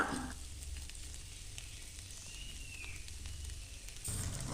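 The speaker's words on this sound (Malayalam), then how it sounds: "ഉള്ളി കട്ട് ചെയ്ത് വെച്ചിട്ടുണ്ട് അത് നമ്മൾ പാനിലിട്ട് വയറ്റുക" Chopped onions sautéing in a pan for a Kerala-style prawn fry, giving a steady, close sizzle that runs unbroken for several seconds and swells slightly louder at the end.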